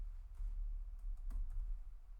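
Brief typing on a computer keyboard while entering a node name in a game engine editor, a few soft close key clicks over low background hum, no voices.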